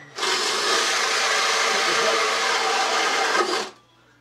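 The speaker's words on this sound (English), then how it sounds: "So all you do is just drill them like this." A hole saw on a drill bores through the wall of a ventilation box in one steady, loud, close-up burst of whirring and cutting lasting about three and a half seconds, then stops.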